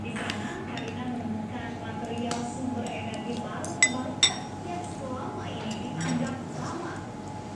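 Cutlery clinks against a plate as food is cut at a meal of Indonesian dishes, with two sharp close clinks standing out over steady room murmur and ongoing conversation.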